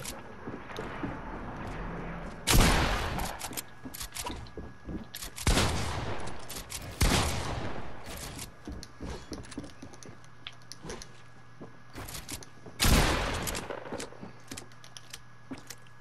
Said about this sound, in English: this shotgun is useless